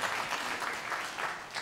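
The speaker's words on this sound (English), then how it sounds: "Let's give him a round of applause" Audience applause for a volunteer at a skepticism workshop, a short burst of dense, steady clapping from a room full of people.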